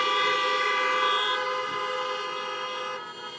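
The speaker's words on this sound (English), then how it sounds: "Give me a little honk if you are." Car horns honk together from a crowd of vehicles at an outdoor election rally in Regina, Saskatchewan, a sustained blaring chorus of toots that holds steady and then fades slightly toward the end, with no talking.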